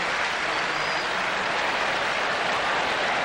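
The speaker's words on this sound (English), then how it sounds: "And now the crowd responds to Daley Thompson." A large athletics stadium crowd at the 1986 Commonwealth Games applauds a decathlete, a dense, steady roar of clapping and cheering that fills the whole stretch without a break.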